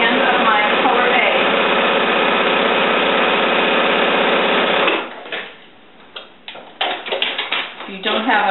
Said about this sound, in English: I'm just putting it through and stitching a consistent 1/4 inch all the way through